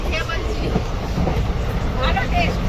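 Steady low rumble of a moving train carriage, with voices chattering nearby over the continuous rolling noise.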